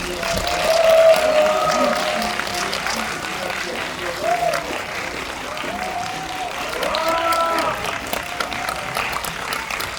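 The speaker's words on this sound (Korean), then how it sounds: "박수로 맞이해 주시기 바랍니다" A cinema audience at a film screening and guest talk applauds as the director, actors and music director are welcomed, with a steady wash of clapping and cheering while an amplified voice speaks over it.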